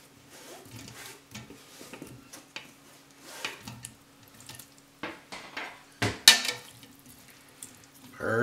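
Water runs and splashes inside a sauerkraut jar as it is rinsed in a kitchen, in short uneven bursts with a few light clinks of glass, fairly quiet and close with no talking.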